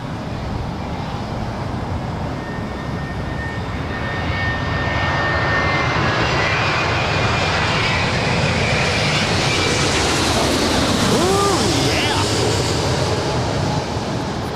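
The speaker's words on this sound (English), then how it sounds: "our Virgin Atlantic Dreamliner now on short final" A Virgin Atlantic Boeing 787 Dreamliner on short final landing at LAX, a loud, broad jet roar swelling steadily as it passes close overhead, with a faint whine and wind noise underneath.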